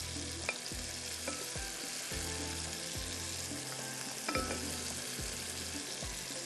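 Boiled, tenderized mutton sizzles and crackles in a hot pan for a dTarka-style mutton dahi masala, with steady frying hiss and recurring scraping stir strokes, close and fairly loud, no voices.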